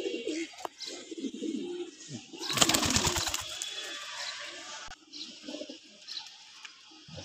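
Pigeons coo in a loft in low, repeated calls, with a louder burst of activity midway and occasional voices nearby.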